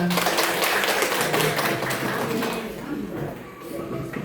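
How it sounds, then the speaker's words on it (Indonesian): Brief burst of clapping from a seated audience at a school guidance-counselling event, dense and fairly loud, fading after a few seconds while a voice talks over it. "Tepuk tangan untuk kita semua"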